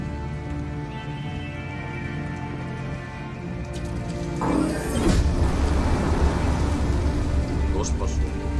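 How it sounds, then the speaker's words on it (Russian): Steady rain patters with a low rumble underneath in the video game Detroit: Become Human, then a sudden burst of heavier downpour and a thundery boom swells midway through. "Дождь пошел."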